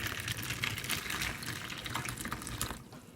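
Hot water splashes and pours steadily over crayfish and salt in a container, a close, bubbly gushing that tapers off near the end.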